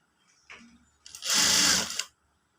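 An electric sewing machine stitching a Katori blouse: a faint tap, then one short whirring burst of rapid stitching close by, stopping abruptly into silence.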